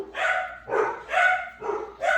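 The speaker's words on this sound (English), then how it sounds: "I apologize for my dogs." Indoor dogs bark in a steady run of about five sharp, close barks at an even rhythm, with no talking over them.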